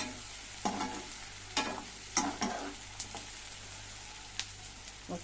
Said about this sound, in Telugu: ఫైవ్ మినిట్స్ అట్లే వేయించాలండి బాగా నూనెలో బాగా వేగుతున్నాయి చూడండి